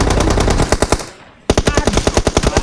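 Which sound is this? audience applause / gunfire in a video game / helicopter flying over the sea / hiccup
gunfire in a video game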